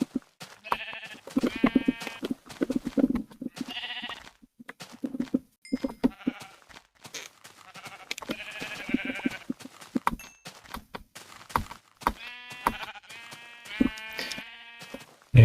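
Sheep in the Minecraft Thaumcraft modpack bleat again and again, a whole flock's repeated wavering cries coming in irregular bursts against quiet in-game surroundings.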